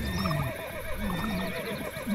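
A horse in a video game neighs and whinnies in a long, wavering cry, fairly loud and close, over a dense background wash.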